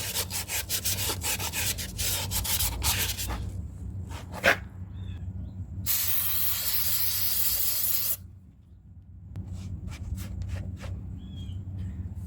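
Hand sanding with 600 grit sandpaper on a part of a 1987 Trans Am LS swap, with rapid back-and-forth rubbing strokes in bursts. A long aerosol spray hiss and short pauses come between them.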